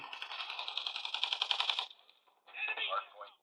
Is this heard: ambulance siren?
no